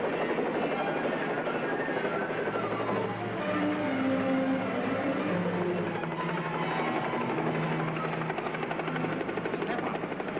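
Helicopter rotor and engine drone steady and loud throughout, with an aircraft hum filling the cabin and some voices or tones mixed in.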